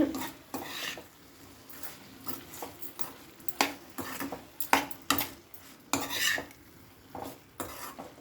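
Eggplant curry is stirred in a pan with a utensil, producing irregular close scraping and clinking strokes against the metal over a faint sizzle, with no speech.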